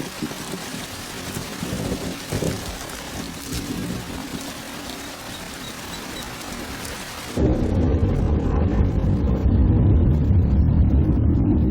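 Steady rain falls with rumbling thunder on Isabela in the Galapagos Islands, the downpour turning heavier and louder partway through and staying dense to the end.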